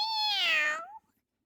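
A man imitates a cat with a single drawn-out meow, close and clear, lasting about a second before falling silent.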